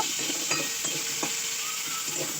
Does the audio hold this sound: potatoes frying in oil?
yes